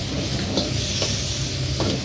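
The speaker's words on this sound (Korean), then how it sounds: "자, 이렇게 볶아주시고, 자, 양파를 조금 넣도록 하겠습니다" Onions stir-fried in a pan for Sichuan-style jajang over a weak direct-flame burner give a steady close sizzle with a few soft stirring scrapes.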